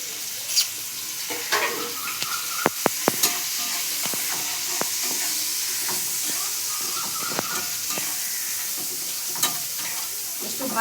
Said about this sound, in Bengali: রসুন কুচিটা দিয়ে দিলাম।